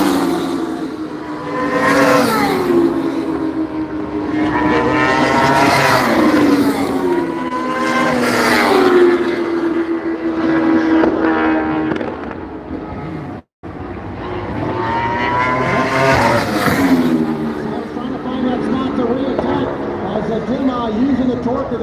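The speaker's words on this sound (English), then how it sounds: "Using the torque of that V4 Ducati just to squirt out of the corners" Ducati V4 superbikes race through corners in a Canadian Tire Superbike Grand Prix, their engines wailing in repeated rising sweeps as they accelerate away, loud and close. A commentator talks over the engines throughout.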